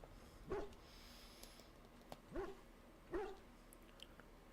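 A warhound in the video game Dragon Age: The Veilguard gives three short whimpers and soft whines, spaced apart over a quiet background.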